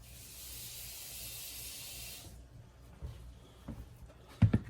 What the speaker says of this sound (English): We're going to add a little bit more water back into it